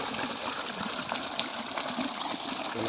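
Rainwater pours into a borewell during a monsoon recharge setup, a steady, close rushing and gushing of water that runs unbroken throughout.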